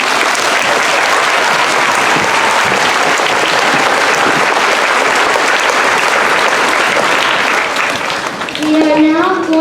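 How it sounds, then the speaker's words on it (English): A school Veterans Day assembly claps for a 4th grade class: loud, sustained applause from a large crowd that fades near the end as a voice begins to speak. "Let's give one more round of applause to 4th grade."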